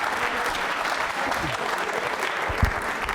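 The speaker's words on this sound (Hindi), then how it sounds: "तालियां शैलजा के लिए जोरदार तरीके से बजाइए आप।" An audience applauds a quiz winner named Shailja at a quiz show, steady dense clapping from a room full of people that holds at full strength throughout.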